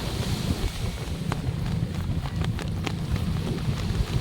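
Wind blows across a Zambales beach in a steady, dense rush over the microphone, with low rumbling and a few faint scattered clicks underneath.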